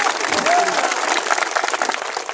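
A crowd at a protest rally applauds, a dense, steady patter of clapping throughout, with a voice briefly audible over it.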